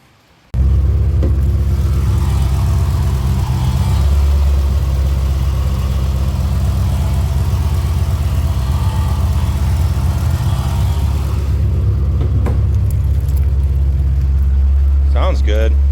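A 1965 race car engine runs without an alternator, a loud, steady low rumble that starts abruptly and idles continuously at close range before fading near the end.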